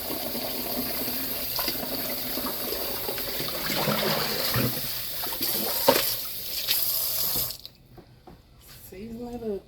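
Tap water runs and splashes steadily in a kitchen sink as raw pork chops and chicken are washed, then cuts off abruptly, leaving a quiet room where a voice speaks briefly.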